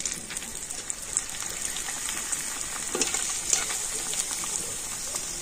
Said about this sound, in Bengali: এবার আমি পুর ভরা পাঁপড়টা তেলের মধ্যে দিয়ে দিচ্ছি।